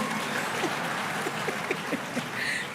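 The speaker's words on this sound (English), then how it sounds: "Hey, you have to clap" A graduation audience claps steadily through a dense, even patter of many hands, with a few faint voices calling out underneath.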